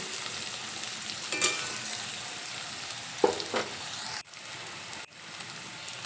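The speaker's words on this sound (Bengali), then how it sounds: "গাজর দেওয়ার পরে আরও 1 মিনিটের মতো গাজর আর আলু একসঙ্গে ভেজে নেব" Carrots and potatoes fried together in a pan give a steady sizzle broken by a few sharp spatula scrapes and clinks, with two brief drops in the frying hiss near the end; no voices.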